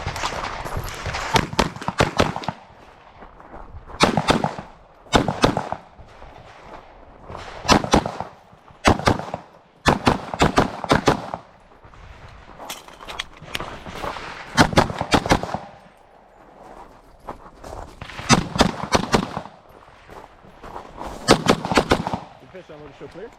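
Springfield Prodigy 1911 DS pistol fired at a shooting match: repeated rapid strings of sharp, loud shots in clusters, separated by short pauses, with faint background noise and occasional voices between strings.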